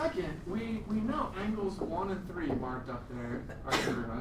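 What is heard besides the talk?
sneeze in classroom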